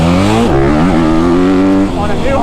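A 2024 Honda CRF250R dirt bike engine running loud and close during a ride, its pitch falling as the throttle eases, then climbing again and holding a steady buzzing drone.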